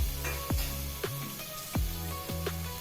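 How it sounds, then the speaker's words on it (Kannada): Sliced capsicum frying in hot oil in a pan for gobi fried rice, a soft steady sizzle punctuated by several sharp clattering knocks of a spoon or spatula stirring against the pan at irregular intervals. "ಕ್ಯಾಪ್ಸಿಕಮ್ಮು ಸಹ ಎಣ್ಣೆಲಿ ಚೆನ್ನಾಗಿ ಫ್ರೈ ಆಗಲಿ."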